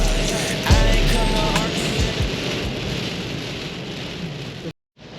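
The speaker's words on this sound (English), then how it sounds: "This is the biggest rain they've had in decades." Heavy rain pours down during the 2022 floods along the Darling River, a dense, steady hiss and drumming with a low thump early on, cutting off abruptly near the end.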